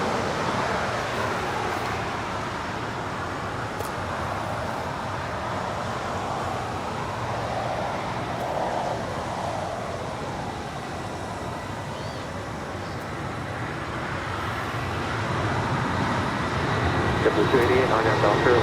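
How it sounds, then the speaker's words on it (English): A Boeing 757-300 airliner, originally delivered to Continental Airlines in 2002, sits on the runway at LAX, its engines giving a steady, broad roar that swells toward the end of the clip. "It's a 757-300, originally with Continental Airlines, delivered to that airline in January of 2002."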